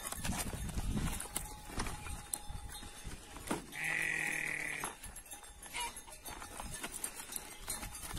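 Horse hooves clip-clopping as a rider sets off on a cattle ranch in the Brazilian northeastern sertão, with scattered soft hoof knocks and rustling and a clear livestock bleat in the middle.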